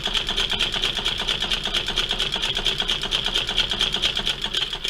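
Domestic high arm fiddlebase sewing machine stitching steadily, a fast even mechanical clatter running continuously and close, with no talking.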